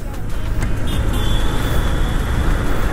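Evening road traffic heard from a moving bike: a loud, steady rumble of engines and road noise, with passing vehicles and a brief high whine over the continuous wash.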